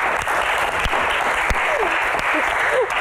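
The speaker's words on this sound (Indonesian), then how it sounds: "Tepuk tangan dong." Audience applause at a stage Q&A event, a loud and dense burst of clapping from a nearby crowd lasting a few seconds, with brief cheers or voices mixed in.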